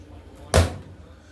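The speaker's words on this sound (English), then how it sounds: "So, I'm gonna shut the door." A microwave oven door is shut with a single short, solid thud, close and abrupt, followed by quiet room tone.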